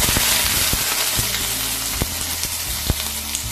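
Capsicum and onion sautéing in oil in a pan for veg Kolhapuri, a loud close sizzle with occasional spatula knocks and pops, no talking.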